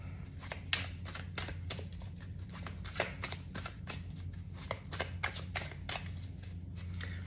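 A Light Seers Tarot deck being shuffled up close, a rapid run of crisp card riffles and soft flicks repeating in quick bursts over a faint low hum.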